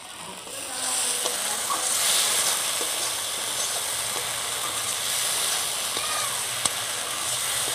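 Prawns and pointed gourd cook on a clay stove, giving a steady close sizzle and frying hiss that runs the whole time with a few faint clicks and stirring sounds.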